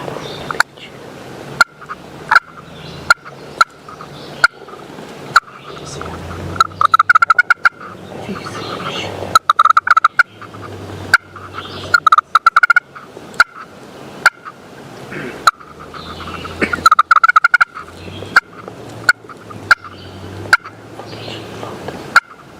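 A wild bird on a mountainside calls loudly again and again in repeated gobbling bursts, with sharp clicks and pauses between the calls and no talking.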